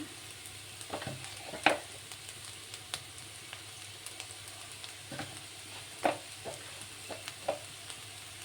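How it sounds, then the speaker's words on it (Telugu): Bean curry with turmeric and chili powder being stirred in a pan, giving soft scraping and clinking strokes at irregular intervals over a low, steady sizzle, fairly quiet and close with no talking. "తగినంత కారంని వేసుకొని మంచిగా కలుపుకోవాలి"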